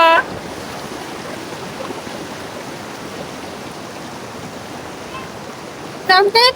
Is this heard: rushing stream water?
yes